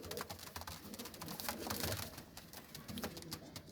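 Pigeons kept in pairs, a male and female set, coo and flutter softly, with scattered bird calls and shuffling through a steady low murmur of a loft.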